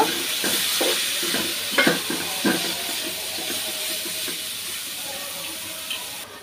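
Vermicelli pilaf is stirred in a pan with a spoon: repeated scraping knocks over a soft sizzle, busy at first and thinning out toward the end, recorded close with no talking.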